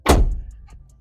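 A Touran seat clips down onto floor rails inside a Caddy van with one solid metallic thunk, followed by a few faint light clicks.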